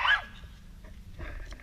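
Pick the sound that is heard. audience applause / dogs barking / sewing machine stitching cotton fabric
dogs barking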